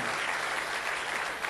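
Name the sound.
congregation applause in church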